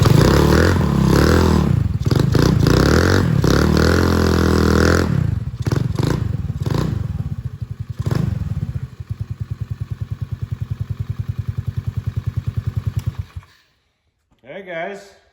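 A Honda Navi motorcycle fitted with a custom Yoshimura exhaust revs loudly up close, its thick engine roar rising and falling before settling into a rapid, pulsing idle that cuts off abruptly near the end.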